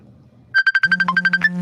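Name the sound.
phone ringtone for an incoming call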